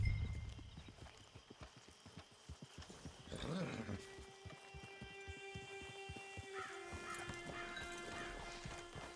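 Horse hooves clip-clop at a steady walking rhythm in Red Dead Redemption 2, joined midway by a short neigh and faint tonal game ambience, at a quiet level.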